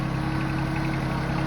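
A tractor engine with a post hole auger mounted on the back idles close by on a farm with a low, even rumble and faint rhythmic knocking, running alone without pause.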